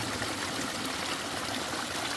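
Spring water wells up from underground to feed irrigation on a vegetable farm, making a steady, close, rushing flow with no breaks and no voices.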